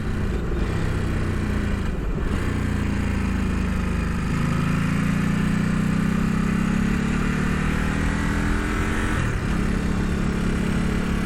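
A car engine hums steadily from inside the cabin as it drives around a corner, with a smooth, continuous drone that shifts slightly in pitch through the turn and no talking.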